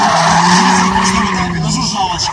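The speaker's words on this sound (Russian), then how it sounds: "Микроавтобус переделанный в дрифт." Tires of a minibus converted for drifting skid in one long, loud continuous squeal with a droning engine beneath, close and steady throughout.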